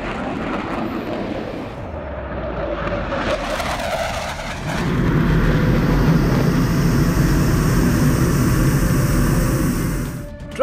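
An Indian Navy MiG-29K fighter jet makes a low pass at about 100 feet and 700 km/h, its engine roar swelling abruptly midway into a loud, sustained, wide-band rush that holds before dropping away.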